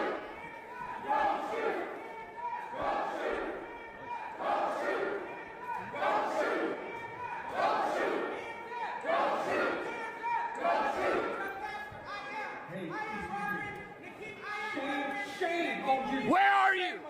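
A crowd of protesters chanting, shouting and screaming inside a church in the middle of a service, with loud rhythmic repeated chants carrying on throughout and individual voices yelling over them.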